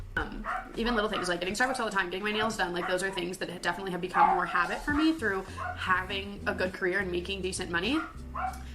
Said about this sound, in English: I'm sorry for my dog's barking.